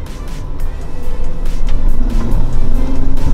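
A Jeep Wrangler JK shifts into four-wheel drive, heard as a loud, close engine drone and rumble from the vehicle with brief mechanical clunks and a rising rev near the end.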